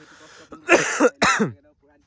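A few sharp, harsh coughs in quick succession from someone close by after running, ending in quiet.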